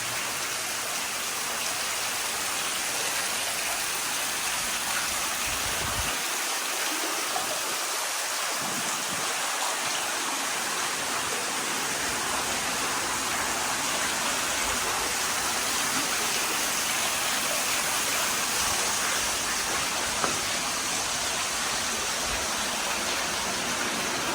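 Indoor waterfalls at a luxury resort hotel in Ios, Greece, pour in a steady, even rush of falling water that stays soft and constant throughout, with no voices.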